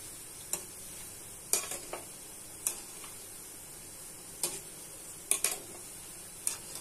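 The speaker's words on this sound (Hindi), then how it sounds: "चारों तरफ अच्छा से ब्राउन करके इसको फ्राई कर लेंगे" Gulab jamun balls fry in oil over a low flame, giving a soft, steady sizzle broken by scattered sharp pops and crackles, faint and close with no talk.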